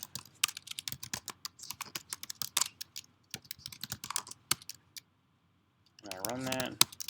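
Quick bursts of typing on a computer keyboard while writing code, close and clear, with short pauses between runs of clattering keystrokes and a brief stretch of talking near the end.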